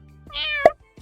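A single clear domestic cat meow, rising and falling with a bright harmonic tone, close and loud against a quiet background, followed by a brief soft sound.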